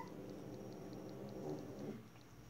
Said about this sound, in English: Why is he growling like that?